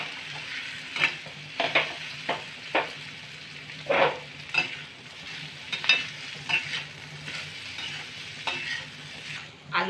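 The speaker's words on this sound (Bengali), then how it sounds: "এবার আলুগুলোকে আমি ছোট ছোট করে কেটে নিয়েছি, আলুগুলো ঢেলে দেবো। মশলার সাথে ভালো করে আলুগুলোকে মিশিয়ে নেব।" Chopped potatoes are stirred into a fried spice mix in a pan, with repeated scraping strokes of a spoon against the pan over a low background sizzle, irregular and close, no voices.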